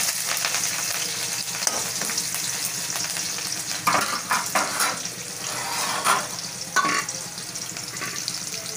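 Curry leaves and masala fry in a pan for an aubergine masala, a loud close sizzle with stirring scrapes and bursts of crackle throughout.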